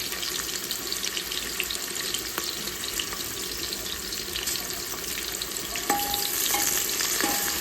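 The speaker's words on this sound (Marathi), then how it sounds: "कांदा घालूया छान फ्राय झाला पाहिजे कांदा" Sliced onions fry in hot oil for chicken biryani, giving a dense, continuous sizzle with light stirring, close by and fairly loud, with no talking.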